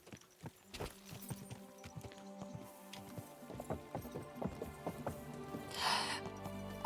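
Horse hooves clip-clop at a steady walking rhythm in the medieval video game Kingdom Come Deliverance 2, a clear series of close hoofbeats on hard ground with a brief whoosh of sound late in the sequence.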